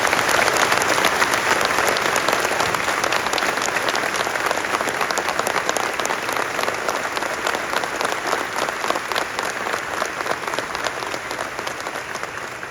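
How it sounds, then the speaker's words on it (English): Sustained audience applause for a band at an Irish citizenship ceremony, a dense steady wash of many hands clapping throughout, loud and even before easing slightly at the end. "can I ask you now to give them a big round of applause, please?"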